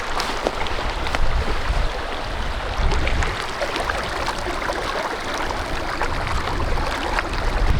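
A babbling mountain creek beside a high-altitude campsite at 12,000 feet, a steady close rush and trickle of water running continuously with no voices.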